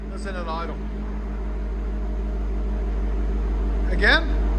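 A 2022 Dodge Durango SRT 392 with a 6.4L HEMI V8 and Borla ATAK cat-back dual exhaust idles steadily with a deep, even rumble, while voices talk briefly over it near the start and end.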